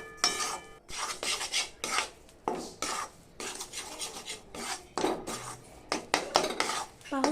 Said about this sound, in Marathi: इकडे पीठही हलवत हलवत आपल्याला भाजून घ्यायचं आहे